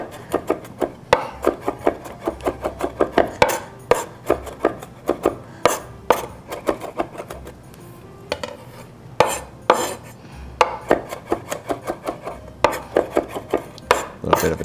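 A knife minces garlic on a cutting board with quick, close, sharp taps in bursts, pausing briefly before the rapid chopping starts again.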